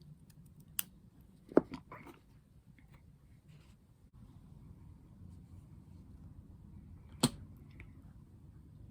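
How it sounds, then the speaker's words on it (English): Scissors snip the edge off a fabric bias strip in a quiet room, with a couple of sharp cuts near the start and another single crisp snip later, no talking. "We have to cut off this edge, otherwise that glue is going to stick to your iron."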